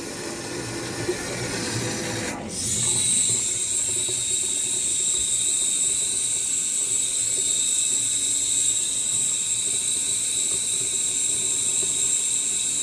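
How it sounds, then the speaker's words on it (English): Trapped air purging out of a drain hose on an Aspen air handler during removal of an integral flow check, a steady loud hiss with a high squeal that runs continuously after a brief break near the start, close by, with no speech. "So you can hear the air coming out now."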